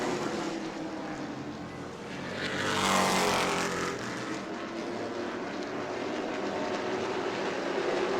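Stock race cars roar around New Smyrna Speedway, one pack swelling to a loud pass about three seconds in and then fading into a steady engine drone, with faint trackside commentary underneath.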